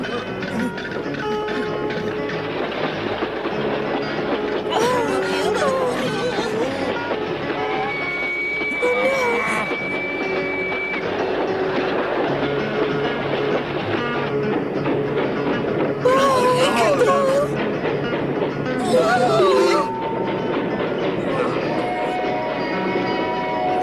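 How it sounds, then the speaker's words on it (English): A cartoon train rumbling along its rails toward the characters, a steady mechanical clatter filling the scene, with voices and music-like tones over it and brief bursts of hiss. "That train will knock us all the way back to San Francisco"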